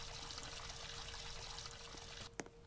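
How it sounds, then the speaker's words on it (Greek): Water runs from a tap in a steady, soft stream while hands are washed, ending in a few brief splashes and clinks. "να πλένω και λίγο τα χέρια μου."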